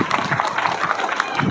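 High school students clap together for a visiting guest in a hall, a dense burst of applause with crowd noise, fairly close and lively.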